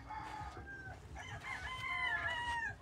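A rooster crows nearby, a rising then drawn-out call, moderately loud, with a few shorter fowl calls around it and no talking.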